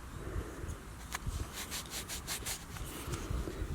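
Rubbing dirt off an old coin freshly dug up at a metal-detecting site, a close, quiet scratchy friction of repeated short strokes in an uneven rhythm.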